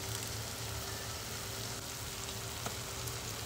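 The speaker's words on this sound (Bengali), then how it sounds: "তারপরে কিছু পেঁয়াজ কুচি কেটে নিয়েছি, এটা আমি তেলের মধ্যে এবার দিয়ে এটাকে ভালো করে ফ্রাই করে নেব" Chopped onions fry in hot oil for a chicken curry, giving a steady, even sizzle that runs throughout at a moderate level with no talk over it.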